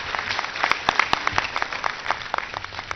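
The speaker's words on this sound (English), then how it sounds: "I think they deserve your applause." At a 5th annual Indian Institute of Management convocation, a hall audience claps for the medal winners, a moderate patter of separate hand claps with several sharp, close slaps standing out over three seconds.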